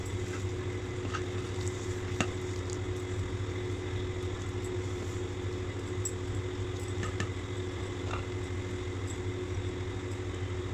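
Prawns fry in a little oil on a flat dosa griddle, a steady even sizzle with a constant hum underneath and a few sharp pops and clicks, with no one talking.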